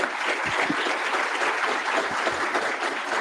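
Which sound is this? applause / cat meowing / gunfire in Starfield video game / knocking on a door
applause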